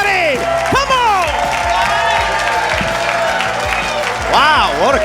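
A comedy club crowd at Helium claps, cheers and whoops together in a dense, loud burst, while a voice rises over the noise.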